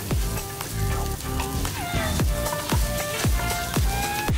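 Curry paste hits hot oil in a pot, giving a loud, continuous sizzle with repeated soft knocks and scrapes of stirring running through it, no voices.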